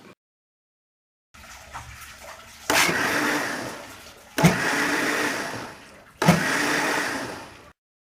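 An electric beater or blender whirs through homemade curd and ice-cold water to churn butter for cow milk ghee, three loud bursts of motor noise with short pauses between, each starting with a sharp jolt.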